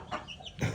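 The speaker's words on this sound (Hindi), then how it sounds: "मुर्गी और इसके चूज़ों को दोस्तों खोलने लगे" A hen with her chicks, let out to walk, gives short soft clucks, two brief close calls within under a second.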